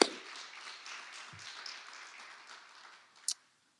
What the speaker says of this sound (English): let us give a round of applause to Dr. Parker for this amazing presentation tonight